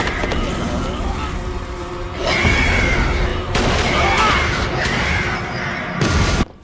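Gunfire and explosive bursts from a TV drama episode play loudly in a dense, chaotic mix with shouting and music, several sharp blasts landing around the two-, three-and-a-half- and six-second marks.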